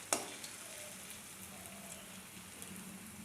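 Potato peel pakoras frying in oil in a wok, a faint, even sizzle and crackle throughout, opening with one brief sharp clink, heard alone without any voices.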